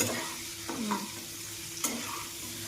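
Pork dry fry stirred in a frying pan: soft sizzling underneath a few distinct scrapes and clinks of a spatula against the pan, quiet and close, with no talking.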